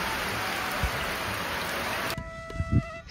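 Heavy night rain pours down in a steady, loud wash for about two seconds before cutting off abruptly into quieter background thumps.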